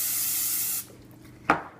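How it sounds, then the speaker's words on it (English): Nonstick cooking spray is sprayed into a pan as a steady, close hiss for under a second. The can is then set down with a short, sharp knock. "I'm gonna spray some nonstick spray in our pan"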